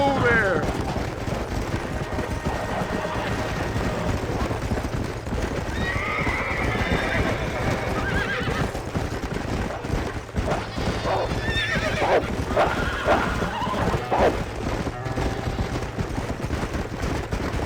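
Horses in the video game Red Dead Redemption neigh and whinny while hooves clip-clop steadily on the ground, mixed with distant bursts of gunfire and some talk.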